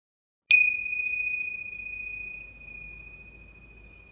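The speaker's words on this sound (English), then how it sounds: "close the puja officially with the gong" A gong struck once to close a puja gives a sudden bright strike, then a clear ringing tone that hangs and slowly fades over several seconds.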